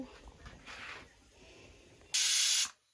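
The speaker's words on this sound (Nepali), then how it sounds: "मेरो दालमा पनि सिटी लाग्यो।" A pressure cooker of dal over a coal fire lets out a sudden loud steam whistle, a bright hissing burst of about half a second that stops abruptly after a stretch of quieter background noise.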